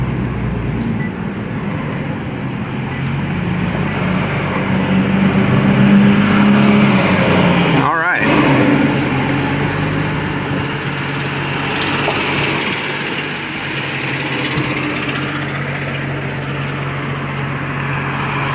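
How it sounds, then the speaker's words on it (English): A 2014 Nissan GT-R R35 with 100,000 miles is heard from inside while driving in automatic mode, its engine a steady low drone with road rumble. There is a brief dropout partway through, and no one speaks. "And we are now driving a Nissan GTR."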